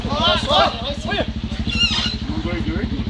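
A trail motorcycle revs hard while climbing a hill, its engine throbbing in a steady rapid pulse close by as excited voices shout over it.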